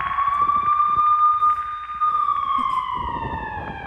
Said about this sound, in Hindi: कोई ऐसा वक्त नहीं है जब वहां पर सायरन ना बज रहा हो।